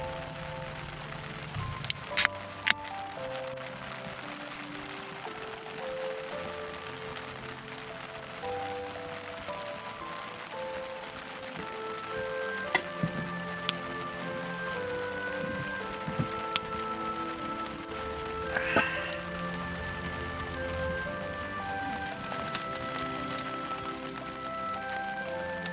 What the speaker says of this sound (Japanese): ソロキャンプみたいなことをすると雨が降りますね